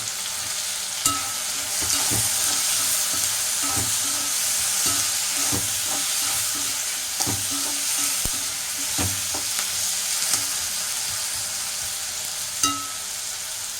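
Green chillies sauté in a hot pan, a continuous close sizzle and hiss broken by the scrape and clink of a stirring utensil every few seconds, with no talking.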